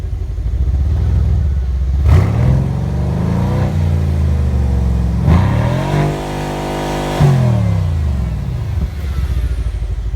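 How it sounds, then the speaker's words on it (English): A 2016 Mercedes C63 AMG's exhaust revving repeatedly while stationary, loud deep engine rumble rising and falling in several throttle blips with a steady idle between them, close and alone. "I'm going to give you a bit of an exhaust review here."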